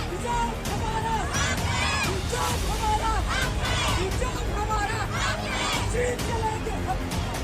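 Street protest crowd of women in Shaheen Bagh over the hijab controversy, a dense continuous babble of many voices with scattered shouts and yells, loud and close throughout.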